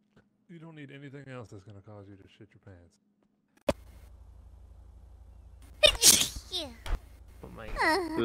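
A single sneeze bursts out around the middle, sharp and close, after a stretch of talking on a voice radio channel in a roleplay game, with more speech following.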